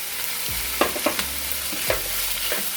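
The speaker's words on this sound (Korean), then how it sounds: "조금 볶다가 이제 청양고추 대파를 넣거든요" Smoked duck stir-fried with cheongyang chili and green onion in a pan, a loud steady sizzle broken by several sharp scrapes and clanks of a utensil against the pan.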